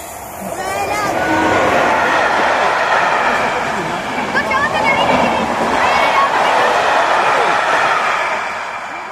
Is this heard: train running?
yes